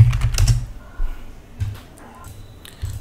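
A computer keyboard being typed on to enter a password at a Linux login, a few short clusters of quick key clicks separated by quiet pauses, close and fairly soft.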